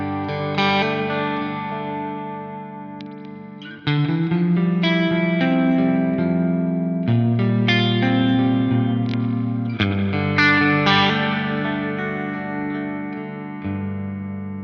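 Electric guitar played through a Black Country Customs Laney spring reverb pedal set with large size and high level, ringing chords with a long, splashy tail and slight distortion, loud and close, with no talking.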